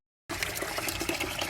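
Rainwater that was sprayed on a roof drains into a garden trough: a steady, close, full-bodied gush of pouring water that starts abruptly after a short silence and runs on without a break.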